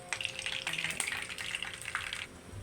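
Chicken fries in reused cooking oil, a steady crackling sizzle with bright spitting pops, close and continuous for a couple of seconds before easing off.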